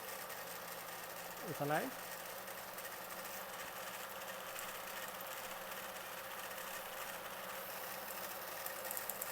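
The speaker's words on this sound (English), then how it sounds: "I'm just going to run only the projector" A vintage Victor Animatophone 16mm film projector runs with a steady mechanical whir and fine rapid clatter, constant throughout; someone briefly speaks near the start.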